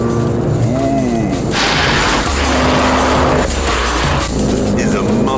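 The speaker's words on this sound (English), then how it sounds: "any prod on the throttle, and you get a deep bellow and a very, very satisfying surge" Ford Focus ST Mk2 under throttle, a loud deep engine bellow rising and falling in surges with tyre noise, close and continuous, with no talking over it.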